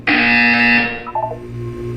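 Loud, harsh electronic buzzer in the video game Portal 2, blaring steadily for nearly a second before cutting off, followed by a few short electronic tones.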